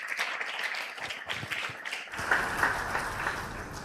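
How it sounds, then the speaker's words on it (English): A hall crowd applauds the pioneer of Nigeria's Good People, Great Nation rebranding project at a business event, with steady dense clapping sustained throughout and no one speaking over it. "I think that deserves a round of applause."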